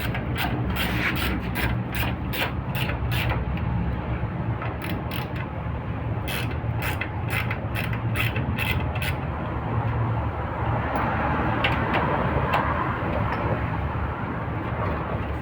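A mechanic works on a Chevrolet Aveo's wheel with hand tools, producing repeated metallic ratcheting and clicking bursts over rubbing and scraping, fairly loud and close throughout.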